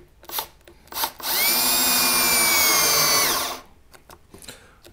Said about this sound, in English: we'll drill a few holes.